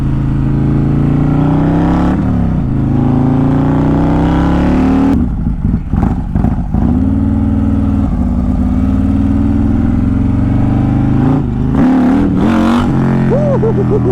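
Built Harley-Davidson CVO motorcycle revving hard during a launch, its loud engine drone rising and dropping in repeated bursts with choppy, stuttering stretches as the rear tire spins, close and with no talk.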